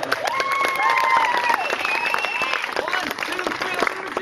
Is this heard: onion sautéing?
no